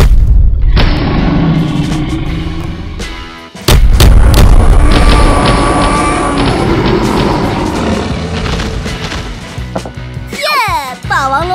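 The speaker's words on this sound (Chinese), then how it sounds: "准备开炮！" A cartoon cannon fires with a loud, booming blast, followed by a long rumbling, crackling tail and a second heavy boom. A child-like voice chatters over the din near the end.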